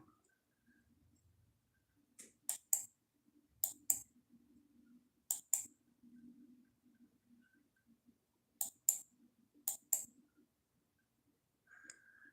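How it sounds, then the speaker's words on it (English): Quiet keyboard typing in short clustered bursts of crisp clicks, with pauses between, against a faint low background murmur. "Here's Shannon Alvarado typing in some of these different groups too."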